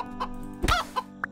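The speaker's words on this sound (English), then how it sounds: "Oh, I might go and kill some chickens," Chickens in the Keplerth video game give a few short clucks, one loud central cluck flanked by softer ones over a steady low game hum.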